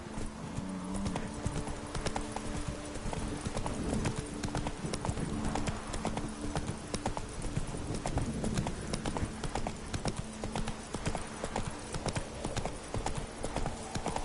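Steady clip-clop of a horse trotting in The Witcher 3: Wild Hunt, set in Toussaint, with continuous rhythmic hoofbeats under ambient game sound and brief voice lines.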